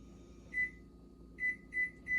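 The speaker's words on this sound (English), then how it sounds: "My microwave always helps me with keeping track of the seconds." Microwave oven beeping in a home kitchen during peach canning: one short beep, a pause, then three more evenly spaced beeps, clear and close over a low background hum.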